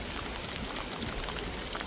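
Steady rain falling on small potted garden plants such as aubergine and red chilli, a dense, even hiss of drops with no talk.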